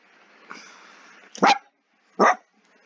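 A dog giving two sharp, loud barks about a second apart, close by, following a faint softer yip, with quiet between them.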